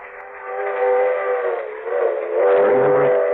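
A train in a radio drama jolts to a stop, a sustained steam-whistle-like tone with layered harmonics that swells, dips and rises again before a lower grinding rumble enters near the end; no voices.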